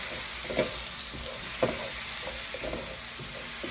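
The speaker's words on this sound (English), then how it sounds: "I'm going to stir it." Fenugreek-coated potatoes being stirred as they fry in a pan, giving a steady sizzle with a few spatula scrapes and clacks against the metal, close and clear, with no talking.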